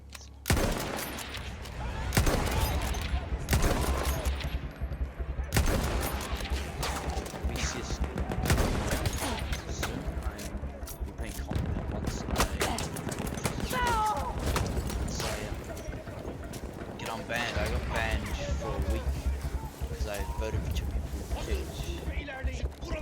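Gunfire in the video game Battlefield 1, with bursts and volleys of shots and crashes scattered through a busy battle soundscape, under a player's talk.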